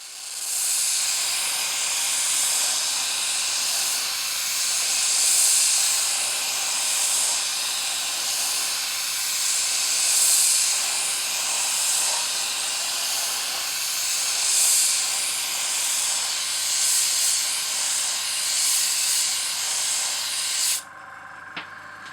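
An airbrush sprays paint in thin coats onto masked wall art showing sails, spinnakers and flags. It makes a steady, close, continuous hiss for about twenty seconds with slight pulsing, then cuts off near the end.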